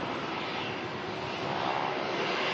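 Jet engine roar at a busy Melbourne airport as a Jetstar airliner starts its engines and a Rex aircraft taxis, a steady, broad, moderately loud rumble that holds unbroken throughout.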